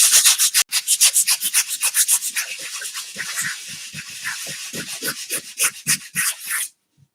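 Lego pieces being lightly sanded to take burrs off and bring them back to a flat surface: quick, rhythmic rasping strokes, close and fairly loud, repeating steadily before stopping abruptly.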